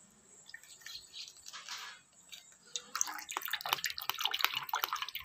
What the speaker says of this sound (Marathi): आपण हे पाणी आता व्यवस्थित गाळून घेणार आहे।